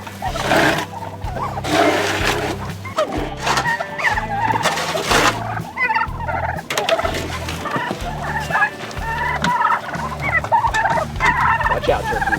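A flock of turkeys raised on desert pasture in Arizona gobbles loudly and repeatedly, with overlapping calls in rapid bursts close by. No one speaks.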